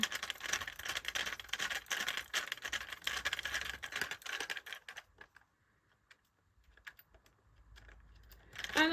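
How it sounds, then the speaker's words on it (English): Small screws being driven back into the plastic base of a Furby toy, a busy stretch of clicking and rattling handling for about five seconds, then near silence broken by a few faint ticks and a final scrape. "Let's quickly screw this back on."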